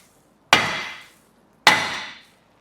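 Two sharp, loud hammer blows strike a Jeep Renegade brake rotor set screw to break its head off, each a sudden close metallic crack with a short decaying ring, about a second apart.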